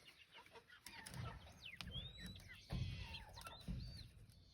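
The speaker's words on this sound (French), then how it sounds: "On est suivi par une armée de poules." A flock of farm chickens clucking and chirping at close range, with a few sharper squawks scattered through, faint and without speech.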